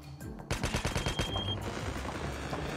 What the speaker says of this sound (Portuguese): Esse tiro aqui foi bem perto. Foi de SMG.